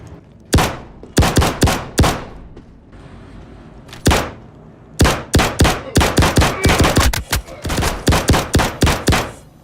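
Gunfire in the video game Star Citizen while a bunker is cleared, beginning with loud, spaced single shots and building into dense, rapid volleys of close, sharp reports near the end.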